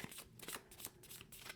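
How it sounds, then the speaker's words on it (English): Playing cards from the board game Adamastor are riffled and shuffled back into a deck, with quick repeated papery flutters and soft slaps. The sound is close but quiet, and no one speaks. "So I'm going to do that and shuffle this back into"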